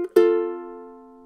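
A single ukulele strum left to ring out, its strings sustaining cleanly and decaying slowly after a short muted tap, with no voices.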